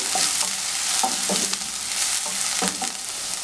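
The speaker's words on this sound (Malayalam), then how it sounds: "പച്ചമുളകും ഇഞ്ചിയൊക്കെ ഒന്ന് ചെറുതായിട്ട് വാടിയാൽ മതി" Green chilli and ginger sauté in a pan with a loud, close sizzle. Several scraping stirs against the pan are spread through the sizzle, and no voices are heard.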